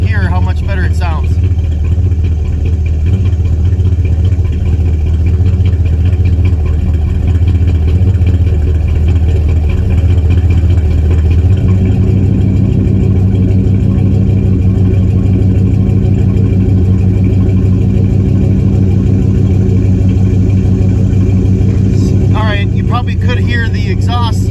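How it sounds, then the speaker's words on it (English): A 1977 Chevy C20 truck engine idles steadily and loud throughout, its low rumble stepping up in pitch and strength about halfway as the idle rises after a timing adjustment. "Could hear the exhaust or the idle go up"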